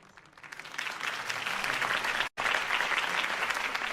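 A crowd applauds after a mayoral campaign speech in Batman The Telltale Series, with dense, close clapping building up and holding strong, broken only by a split-second dropout.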